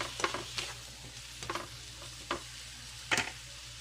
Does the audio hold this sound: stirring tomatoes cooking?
yes